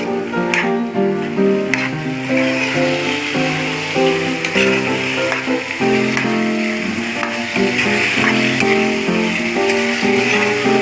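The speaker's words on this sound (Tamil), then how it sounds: "உப்பு போட்டு நல்லா அதை கிண்டி விடுவோம்" Masala with salt stirred in a frying pan, a continuous sizzle with scraping strokes of the spoon against the pan, while background music plays throughout.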